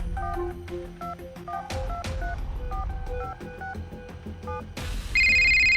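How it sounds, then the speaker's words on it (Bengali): A telephone keypad is dialed in a radio drama: a quick run of distinct DTMF beeps in an uneven rhythm, followed by a steady electronic ringing tone at the end, with no talking. "রঞ্জিনী ফোন করল।"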